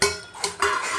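Cashews and raisins fry in hot ghee in a pan while making carrot halwa, with a spoon clattering and scraping against the metal pan in a short burst of stirring sounds.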